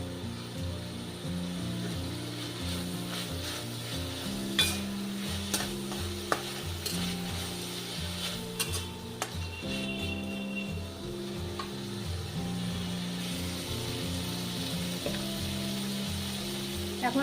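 Sliced capsicum is stir-fried in a pan: scattered spatula clicks and scrapes sound over a steady low tonal hum and a soft frying hiss.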